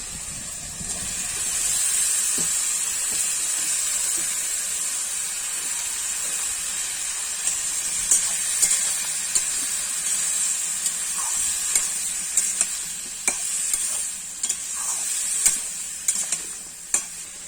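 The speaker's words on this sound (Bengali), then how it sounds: "এবার এর মধ্যে ইঁচড়টা দিয়ে দেবো।" Young jackfruit sizzles and crackles in a pan with garlic paste: a steady, close frying hiss, with light stirring clicks and scrapes growing more frequent toward the end, and no voices.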